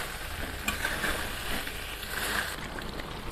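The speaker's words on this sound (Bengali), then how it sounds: "10 মিনিটের জন্য ভালোভাবে কষিয়ে নেই" Chicken with potatoes and almonds sautés in a pan, a dense continuous sizzle with faint stirring scrapes, close and steady throughout without talk.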